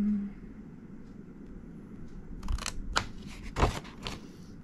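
Scissors snip through paper being cut to make a birthday urn, a few quick crisp cuts in a quiet room.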